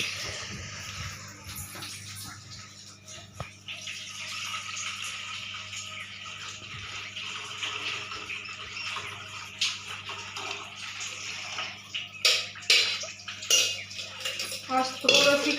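Water runs steadily from a tap at home while something is washed. The hiss is moderate and continuous, with splashes and clattering knocks growing more frequent toward the end.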